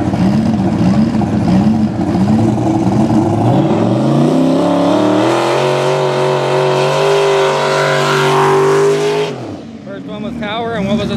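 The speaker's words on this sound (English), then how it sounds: "Rudy Supra versus the Turbo Mustang again" Toyota Supra racing a turbocharged Ford Mustang at a drag strip, loud engines revving and climbing in pitch under crowd and announcer noise, then cutting off abruptly near the end.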